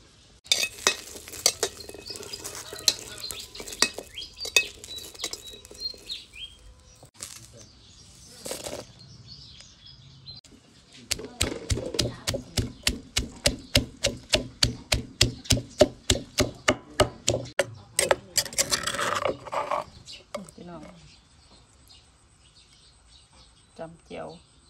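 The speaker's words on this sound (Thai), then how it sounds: "ตำแจ่วปลาแดกค่ะพี่น้อง" Fermented fish chili dip (jaew pla ra) being pounded in a mortar, with a long run of steady, evenly spaced loud thuds after earlier clatter and stirring, and someone talking at times.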